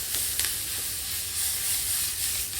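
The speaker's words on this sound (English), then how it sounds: "We've got our lovely onions cooking away on the stove." Onions frying in a pan on a stovetop, a steady close sizzle and hiss that holds evenly throughout, with a few faint clicks and no voices.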